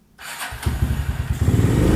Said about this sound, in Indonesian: Oke, langsung kita tes nyalanya ini. Gimana sih? Langsung kita starter.